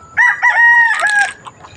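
A backyard rooster crowing once, close and loud, a drawn-out cock-a-doodle-doo lasting just over a second.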